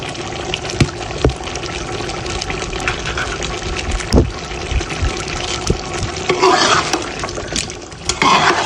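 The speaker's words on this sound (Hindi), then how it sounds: "एक कप मैं ऑयल का डाल रही हूँ इसके अंदर।" A cup of cooking oil pours into a pot of ginger paste for beef karahi gosht, a steady liquid stream with kitchen clatter and a few sharp knocks, close and moderately loud.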